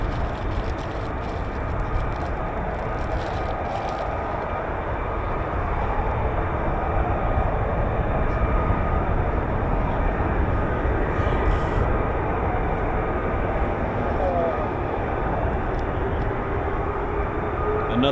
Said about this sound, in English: So there are 2 F-35Bs in the hangars, just started up now, so beautiful sounds.